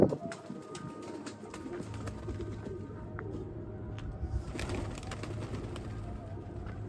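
A pigeon coos softly amid outdoor background noise, then a brief flutter suggests it flying off, the sounds faint and somewhat distant.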